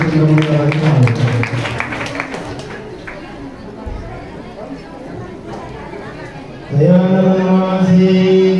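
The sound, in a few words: loud audience applause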